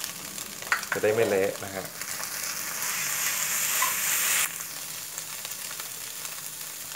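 Precooked crab stir-fried with curry powder and noodles in a hot wok: a loud, steady sizzle with scraping stirs, while someone briefly speaks over it.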